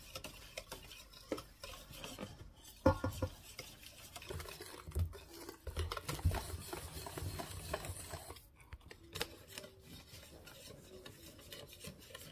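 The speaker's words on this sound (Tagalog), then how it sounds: "Dahan-dahan lang natin i-mix yung ating dry ingredients." Dry ingredients are folded slowly into a batter with continuous soft scraping and stirring against a bowl, a rasping, rubbing texture with occasional light knocks, close and quiet with no talk.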